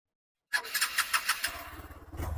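A Hero Xpulse 200 4V motorcycle starts after a moment of silence, with a quick whirring crank followed by the engine catching and settling into a low, close idle.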